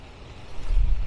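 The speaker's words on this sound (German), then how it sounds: "Warte, kommt ein Auto." A low rumble swells over about a second as a car approaches on a snowy street after a winter storm in the Hudson Valley, New York, with wind buffeting the microphone.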